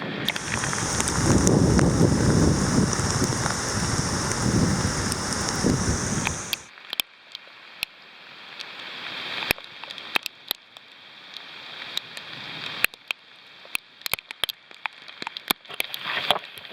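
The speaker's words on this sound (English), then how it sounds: "Well, we got all kinds of rain." Heavy rain pours on a kayaker waiting out a storm on the Neuse River, a dense loud roar for about six seconds, then drops to lighter patter with scattered sharp drops and wind buffeting the microphone.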